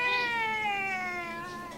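A pet cat named Mr. Jingles gives a single drawn-out meow, clear, close and tonal, with a slight downward glide and no talking over it.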